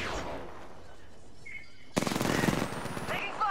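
Gunfire in Apex Legends at Kings Canyon after dark: quiet ambience with a distant shot or two, then a sudden close rattle of rapid automatic fire, with a voice heard briefly.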